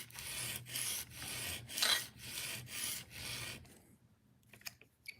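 A knife blade is stroked repeatedly across a diamond sharpening stone, producing close, loud rasping scrapes in a steady rhythm of about six strokes, followed by quieter scattered scrapes and taps.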